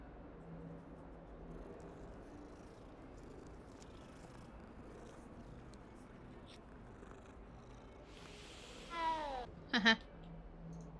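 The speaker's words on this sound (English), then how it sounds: "Oh, kitty!" A cat in the game Hogwarts Legacy meows near the end, after a quiet stretch of soft background ambience with some talk, its short rising meows standing out clearly.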